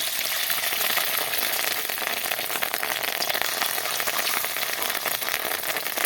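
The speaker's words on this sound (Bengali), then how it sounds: "কড়াইতে আমি তেল দিয়ে তেলটা গরম করে নিয়েছি এবার ডিমগুলোকে আমি ভেজে নেব এক এক করে" Fish roe frying in hot oil in a wok makes a dense, continuous crackling sizzle that stays loud and even throughout, with no one speaking.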